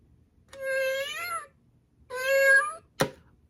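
Battery-operated plastic cat treat cookie jar meowing: two drawn-out electronic meows, each about a second long, followed by a sharp plastic knock, close and clear with quiet gaps between.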